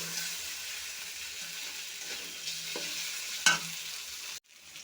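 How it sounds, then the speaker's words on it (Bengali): Potato and onion fry in a pan with a soft, even sizzle, one brief clink of a utensil, and then a sudden drop in level near the end. "আবার একটু ভেজে নেব।"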